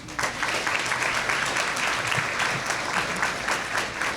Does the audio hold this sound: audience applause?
yes